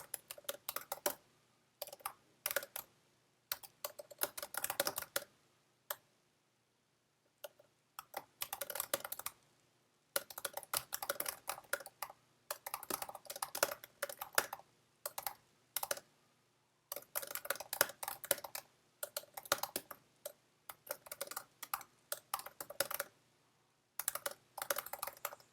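Someone types on a computer keyboard in quick bursts of clicking keystrokes. The keys are close and clear, with short pauses between the runs and no speech.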